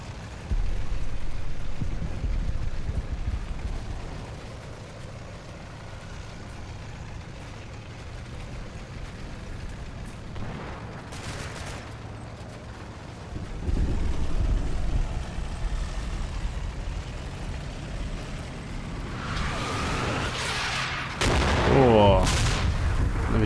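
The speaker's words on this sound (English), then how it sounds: "the German artillery's not done with me" German artillery fire in the Normandy wargame Combat Mission: Battle for Normandy, with scattered booms and bursts of gunfire over a low rumbling battlefield backdrop, growing louder and sharper toward the end.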